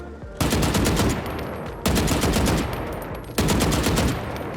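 Rapid automatic gunfire from a Valorant weapon shooting at a practice dummy, loud and close, coming in three sustained bursts of dense shots with brief gaps between them.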